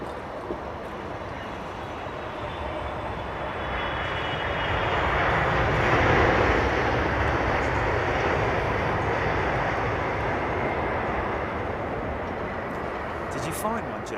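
Singapore Airlines airliner near runway 27R, a broad jet roar that builds to a peak midway and slowly fades, with faint talk in the background.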